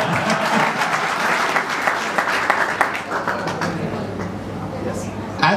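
Audience applauding at a live business speech event in Ahmedabad, dense steady clapping from a crowd that fills the room, with a voice talking faintly underneath.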